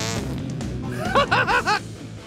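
A wet, sputtering fart noise runs in several quick pulses after a brief lead-in, loud and close.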